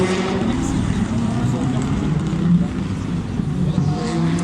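Skoda Fabia Super 2000 rally car driven by Sébastien Louis at the 2021 Rally de Wallonie, a steady engine drone running throughout under an announcer's commentary.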